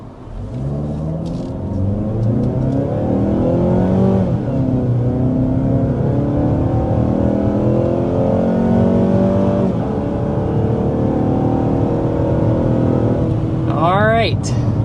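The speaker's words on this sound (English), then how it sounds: "That was our acceleration to 60 miles per hour with the 2026 CX-5." A 2026 Mazda CX-5 with 2.5L engine accelerates hard to 60 mph, a steady loud engine drone rising in pitch through gear changes from inside the cabin, then easing off.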